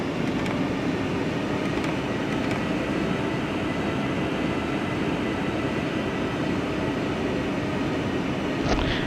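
Qatar airliner on its takeoff roll down runway 16 at Doha, a loud continuous engine roar with steady rumbling from inside the cabin and no break throughout.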